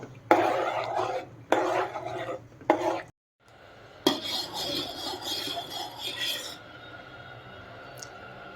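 A thick tomato papad mixture is stirred in a pot while it cooks, giving close scraping and rasping strokes in bursts with short pauses, then a longer stretch of steady scraping.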